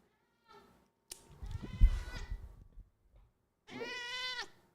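A pet cat lets out a drawn, wavering meow near the end, after a short stretch of scuffling and handling noise; the sounds are faint and indoors.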